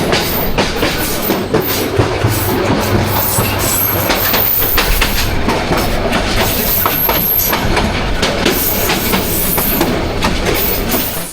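The Burimari Express rolls on rails between Rangpur and Santahar, its wheels clattering in a steady, loud clickety-clack with a constant rumble and a faint squeal of the wheels throughout.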